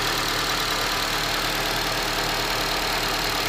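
The 2.4-liter engine of a 2014 Honda CR-V all-wheel drive idles steadily, a constant broadband hum and hiss with no pauses, recorded close under the open hood.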